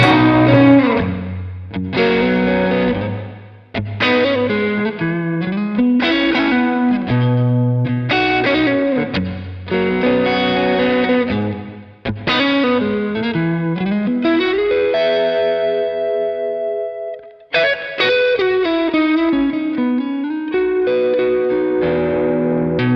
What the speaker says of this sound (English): If you want to hear some serious reverbery happening